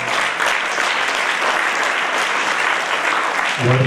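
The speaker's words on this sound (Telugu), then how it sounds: "గురుజీకి గట్టిగా చప్పట్లు కొట్టుకుంటూ వస్తారు." At a parents' foot-worship day at Sri Aurobindo School, an audience claps loudly for the guru in a thick, sustained burst that continues throughout, with a voice starting up just at the very end.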